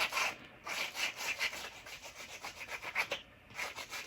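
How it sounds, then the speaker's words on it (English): Small power sander working the edges of a wooden cross for rustic home decor, a faint rhythmic rasping and rubbing in repeated strokes with a steady high whine behind it. "now we're going to just take my little sander on the edges"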